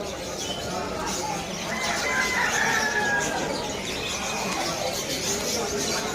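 Chickens cluck and call amid a busy morning pet market in Malabon, Hulo, with dense crowd noise and chatter throughout and a clearer bird call near the middle.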